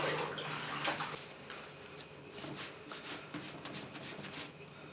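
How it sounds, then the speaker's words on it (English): A cloth rinsed under running water gives a soft, continuous splashing flow with light wringing swishes, close but fairly quiet, with no talk. "I'm just going to rinse the cloth quickly."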